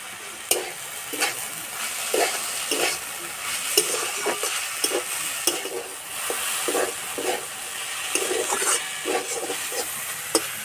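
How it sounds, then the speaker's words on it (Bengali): Potatoes fry in a pan with a steady soft sizzle, punctuated by repeated scraping and knocking strokes of a spatula stirring them, close and without talk. "এদিকে আলু ভাজা হতে থাক।"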